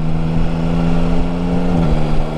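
A Yamaha Tracer 9 GT motorcycle engine drones loud and steady while riding, with a brief dip in pitch near the end as the clutch is used for a gear change, under constant wind rush.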